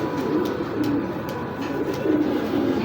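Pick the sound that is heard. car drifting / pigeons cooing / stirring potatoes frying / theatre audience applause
pigeons cooing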